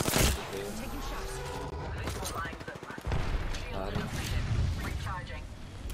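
Rapid automatic gunfire and explosions in the Apex Legends video game, dense overlapping bursts close up, with voices talking over the shooting.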